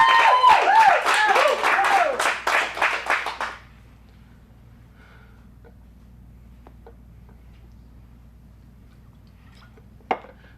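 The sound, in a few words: audience applause for a performer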